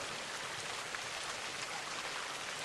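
Steady rain falling in a soft, even hiss that continues without a break, moderately quiet and with no voices.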